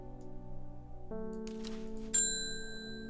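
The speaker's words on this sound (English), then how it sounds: "I rang the bell by accident." A bell rung by accident in the Strange Horticulture video game, a single bright, ringing strike that cuts in over soft game music and lingers as it slowly decays.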